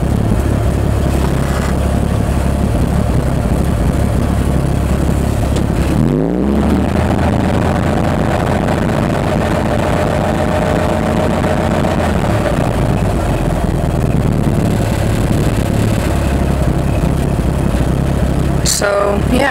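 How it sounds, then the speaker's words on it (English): A Chevy car with its hood open idles close by, a loud steady low rumble. Its replacement engine is from about 1971–73. A brief swell is heard partway through. "This is not the original engine, by the way."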